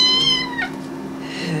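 Small shelter kittens in a cage, some sick with enteritis, give high thin squeaks and meows, a few close calls over a steady low hum.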